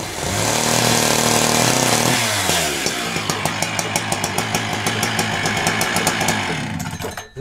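A chainsaw running in a rural village in the Kostyukovichi district of Mogilev region, a loud steady engine drone at first, then a rhythmic series of sharp cutting bursts, with no talk.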